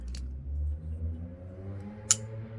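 An XM-18 folding knife blade being closed: two separate, sharp metallic clicks, a faint one at the start and a crisper, louder snap near the end, in an otherwise quiet room.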